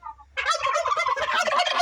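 Turkeys in a backyard pen shared with male ducks let out a rapid, warbling gobble. The call is close and loud and continues unbroken for over a second, with no talking over it.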